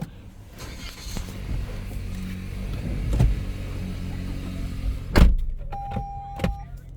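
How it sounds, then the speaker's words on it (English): A 2023 Toyota C-HR GXL 2WD is started with the push button, giving a short whir and thump from the car cabin, with clicks and a brief electronic chime following, moderately loud and without talk. "So I'll just jump in and start him up. So foot on the brake, push this little button."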